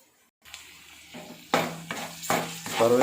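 Curry leaves dropped into hot oil for a spicy fish curry, giving a rising crackle and sizzle in several bursts, with faint clinks of a utensil against the pan close by.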